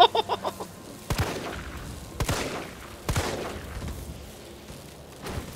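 Gunfire in the video game Resident Evil 3 Remake: a quick opening burst of shots, then several spaced heavy blasts with reverberant tails, each fading into low ambience.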